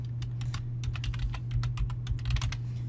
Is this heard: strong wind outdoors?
no